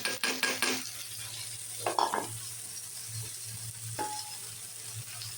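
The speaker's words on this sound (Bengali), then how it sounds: "এখন আমি ভেন্ডিটাকে দিয়ে দিব। ভেন্ডিটা ভেজে নিব।" Okra goes into a pan of frying onion and green chili, sizzling steadily while a utensil scrapes and clinks against the pan in a few distinct strokes, close up with no talking.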